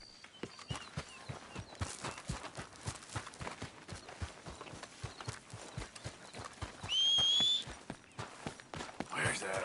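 Horse hooves clip-clop in a steady walking rhythm in the video game Red Dead Redemption 2, close and fairly faint, with a brief high whistle-like tone partway through.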